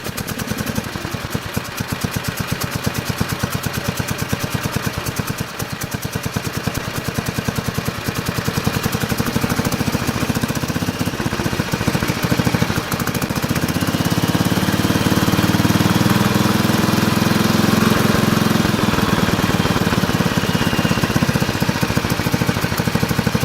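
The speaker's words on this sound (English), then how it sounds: "I mean, it seems to run okay once it gets going, so that's just what has me baffled about this thing." Wisconsin S8D engine on a 1969 Bolens 850 tractor, which has starting problems, runs steadily and loudly up close. A dense, continuous mid-pitched chug holds throughout, with no talk.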